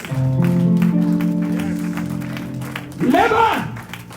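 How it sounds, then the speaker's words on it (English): A church congregation at a 2021 crossover service claps along, a rhythmic patter of many hands underneath sustained organ or keyboard chords, with a voice rising over the clapping near the end. "Put your hands together and begin to clap for Jesus."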